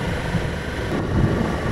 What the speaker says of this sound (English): Windy, quite high up on the moors.